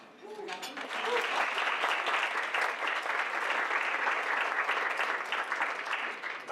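After a brief murmur, an audience breaks into steady applause lasting about five seconds, moderately loud and even, with a hint of voices at the start.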